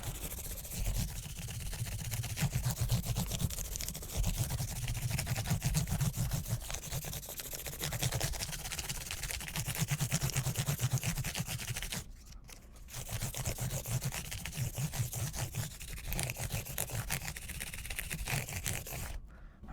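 Continuous scratchy rubbing of 1200 grit sandpaper polishing the frets of a Yamaha bass guitar, a quiet steady back-and-forth scraping that runs throughout with a brief pause near the end.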